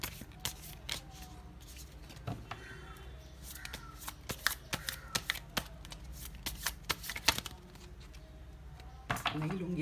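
Tarot cards shuffled by hand in a Hindi love reading, a dense run of crisp riffling snaps and slaps with a brief pause partway, close and fairly loud over a low room hum.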